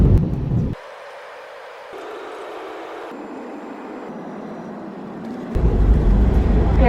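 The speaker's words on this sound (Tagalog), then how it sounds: "we have just landed at Mactan Cebu International Airport" Inside the cabin of an Air Asia airliner landing at Mactan Cebu International Airport, a steady broadband roar that drops abruptly, holds as a lower rumble, then surges loud again near the end.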